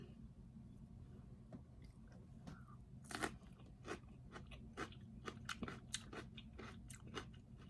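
Crunchy bites of cucumber dipped in baba ghanoush, a run of sharp crisp snaps and chewing close to the mic, fairly quiet, with no talk.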